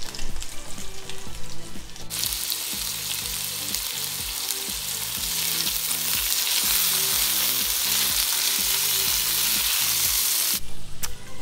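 Swedish meatballs browning in a frying pan, a steady loud sizzle and crackle of frying fat throughout, with occasional scrapes and knocks of stirring in the pan.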